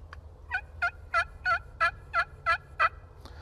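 A turkey pot call is worked in a hunting blind, giving eight evenly spaced, clear yelps in a steady rhythm, close and fairly loud.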